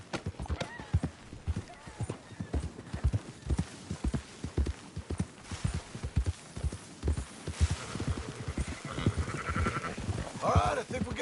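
In Red Dead Redemption, sheep bleat while horse hooves clip-clop steadily through the scene. Voices of people talking are mixed in, and a loud bleat rises near the end.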